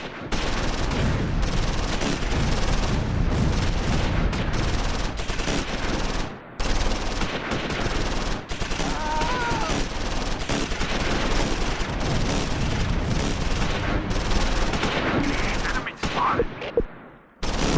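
Machine gun bursts and tank cannon fire in a Close Combat 4 Battle of the Bulge engagement at Wiltz, 1944, rattling in rapid, repeated volleys with heavy booms throughout, loud and continuous with brief gaps.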